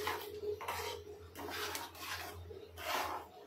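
Fried pieces are stirred into ghee in a pan. Four or five rhythmic scraping strokes of a spoon against the pan sound close and quiet.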